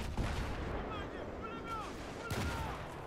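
Battlefield 3 combat on the Back to Karkand map, with gunfire and grenade blasts rolling through a dense, continuous din of battle noise and a few sharp bursts.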